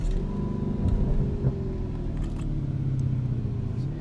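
A Lamborghini Urus SUV engine rumbles low and steady, building as it accelerates, close by and fairly loud.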